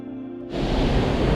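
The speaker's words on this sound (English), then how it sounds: "So we're at another waterfall here." Waterfall in the Quinault rainforest of Olympic National Park, a broad steady roar of rushing water that swells in loud and close after a brief quieter start.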